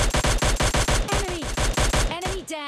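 Rapid bursts of gunfire in the PUBG Lite video game, loud, closely spaced shots in a steady rhythm for most of the stretch, with a voice talking over the later part.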